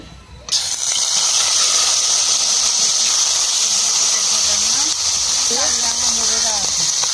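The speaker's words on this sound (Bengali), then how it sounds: "কেটে রাখা চিংড়ি মাছটা ভেজে নেব।" Prawns sizzle in hot oil in a kadai, a loud, steady hiss that starts abruptly and holds without a break, with faint background voices underneath.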